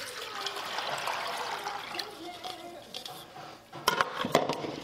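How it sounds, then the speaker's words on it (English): Water pouring into a pot of 15 bean soup, a continuous splashing stream, followed by a few clanks of the pot and cookware near the end, with talk present. "And then you are going to add in your 8 cups of water."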